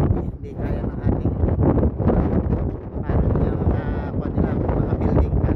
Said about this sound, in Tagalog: sobrang lakas ng hangin at saka malamig